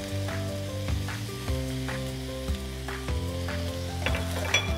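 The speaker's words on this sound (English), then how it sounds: "Mix all of the ingredients together" Sautéed green beans with Parmesan are tossed in a pan, with a steady sizzle and light intermittent stirring scrapes, close and even.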